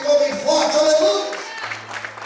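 A church congregation claps and cheers together during a Portuguese-language sermon, a brief burst of applause with voices calling out above it that fades toward a low hum.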